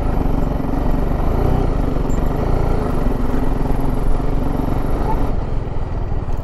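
Motorcycle climbing a rough hill road at Vanajangi Hills near Araku, a loud, steady engine rumble with rattling, heard continuously and up close with no talking.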